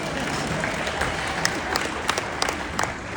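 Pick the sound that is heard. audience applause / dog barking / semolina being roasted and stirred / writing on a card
audience applause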